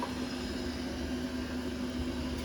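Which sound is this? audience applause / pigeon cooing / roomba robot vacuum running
roomba robot vacuum running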